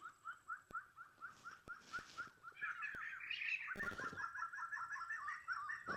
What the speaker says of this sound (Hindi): साउंड आ रहा है ना पक्षियों का